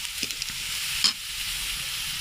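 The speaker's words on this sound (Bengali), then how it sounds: "এখন পেঁয়াজটা ভাজা হয়ে গেছে" Steady sizzling of onion frying in a hot pan, with a few soft clinks and stirring scrapes near the start and a brief louder scrape midway.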